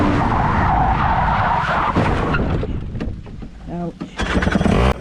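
A small go-kart engine revs hard, then tires skid and scrape as the kart spins out on a wet track at LYL Karting in Malaysia, ending with the engine droning back up loudly.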